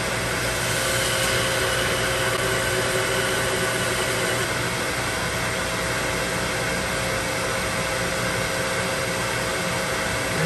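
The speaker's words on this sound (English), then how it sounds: "I'm going to flip on the low pressure pump" Low pressure pump of a sailboat's water maker running, a loud steady broadband whir with a constant hum and no variation.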